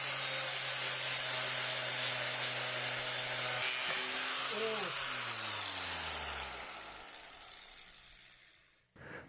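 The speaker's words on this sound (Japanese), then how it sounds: "グラインダーの回転が速すぎて、このバフがちぎれて飛んでっちゃうんすよね" A large grinder fitted with a buffing pad polishes a golf club head. It gives a steady high whine that holds for several seconds, then winds down in falling pitch as it spins to a stop, followed by a brief clunk.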